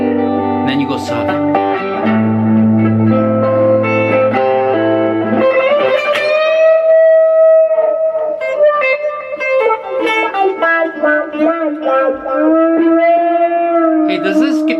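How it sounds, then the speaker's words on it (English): A Zachary 260 hollowbody electric guitar, a fully hollow Les Paul-style body, rings out through effects with sustained chords and then bending, sliding lead notes, loud and continuous. "It's a totally hollow Les Paul."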